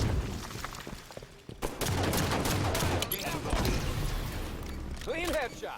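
Gunfire from the Halo 5 video game, a dense run of shots and impacts heard over several seconds, loud and continuous, with voices talking over it and a brief whooshing effect near the end.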